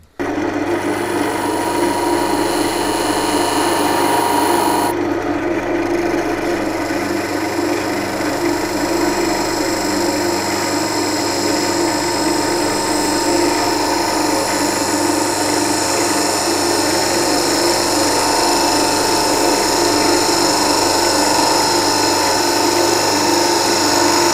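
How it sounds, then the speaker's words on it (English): A power tool works steadily for about twenty-four seconds as a mortise is cut into wood, giving a continuous loud whirring rasp with a brief shift in tone near the start. No voices are heard. "So that's the mortise now cut in there"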